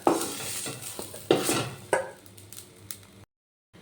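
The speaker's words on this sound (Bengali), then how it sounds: "নুন হলুদ দিয়ে বেগুনগুলো একটু ভেজে নিচ্ছি।" Brinjal pieces fry in oil with salt and turmeric in a pan, giving a soft sizzle broken by several sharp scraping stirs and clinks of a utensil, followed by a short silence.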